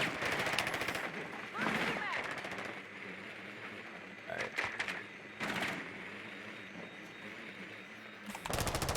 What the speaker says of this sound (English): We're getting sniped.